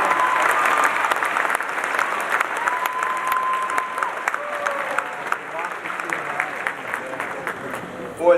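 A lively crowd applauds and cheers steadily at a political rally indoors, dense continuous clapping with scattered whoops and voices mixed in, holding loud throughout.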